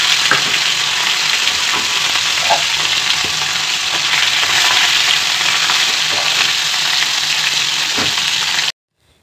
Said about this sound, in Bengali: রান্না করতে 4 পিস মাছ ভাজবো